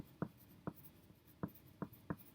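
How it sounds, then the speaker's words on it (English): Pencil on paper, five short distinct scratchy strokes at uneven intervals, close and quiet in a still room. "I'm going to get my pencil and I'm going to write"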